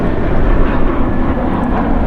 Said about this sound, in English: Our next arrival is Alaska Airlines Flight 304 coming in from Seattle on a Boeing 737-900ER